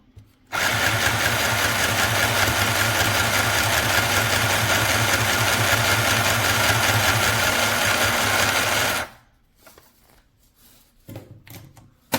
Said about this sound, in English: Here is what happens when we sew.